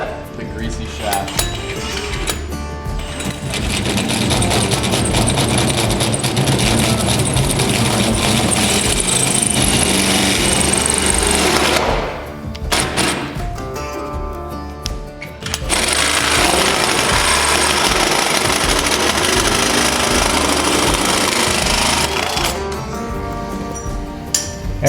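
A power drill with a carbide-tipped bit runs loud and close during a truck cage build. It grinds in two long sustained runs separated by a short pause, with people talking around it.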